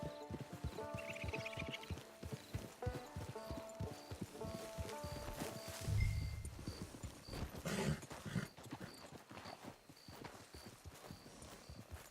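Horse hooves in the video game Red Dead Redemption 2, a steady clip-clop of a ridden horse at a brisk rhythm, fairly faint, with game music and ambient effects around it and no speech.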